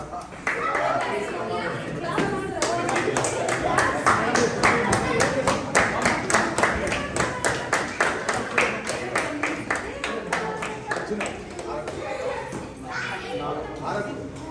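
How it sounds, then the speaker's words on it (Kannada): A crowd claps at a karate championship celebration, the hands settling into a brisk, rhythmic beat that grows louder in the middle before thinning out, with voices and children's chatter mixed underneath. "ಬರ್ಲಿ ಚಪ್ಪಾಳೆ"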